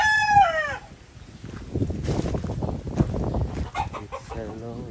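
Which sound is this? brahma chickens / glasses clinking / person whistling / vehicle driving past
brahma chickens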